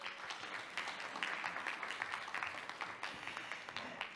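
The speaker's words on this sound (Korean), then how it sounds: "여러분 다시 한번 힘찬 박수 보내주십시오" Audience applause at a Korean international forum session, a steady sustained round of clapping from a crowd in a hall, moderately loud and continuing throughout without speech over it.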